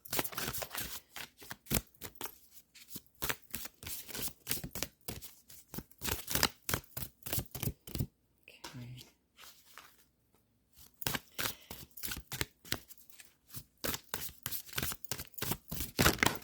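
Tarot cards are shuffled by hand in rapid, crisp riffling bursts, close and clear, with a short pause in the middle before the shuffling resumes.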